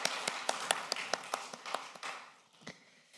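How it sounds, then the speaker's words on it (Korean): Church congregation clapping in encouragement for missionaries to Türkiye: scattered, sparse hand claps with distinct individual slaps, fairly close, fading toward the end. "우리 선교사님 안식 잘하시도록 격려 박수해 주시면 감사하겠습니다"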